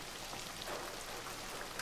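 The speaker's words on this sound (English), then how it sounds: "The rain's coming in here." Rain pouring into a bathroom in The Last of Us Part 1 on PS5, a steady, faint hiss of falling drops and splashes with no voices.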